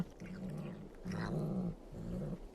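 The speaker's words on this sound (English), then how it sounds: "Oh, here comes the cat. And he's eating" A cat eats noisily, giving three rhythmic, growly murmuring bursts of chewing and mouth noise, close and fairly loud with short pauses between.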